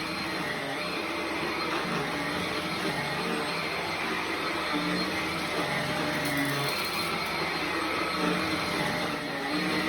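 Halo Capsule X cordless carbon-fibre vacuum cleaner running steadily on a living-room rug at its lowest setting, a constant close whirring motor drone with a faint brush hum throughout.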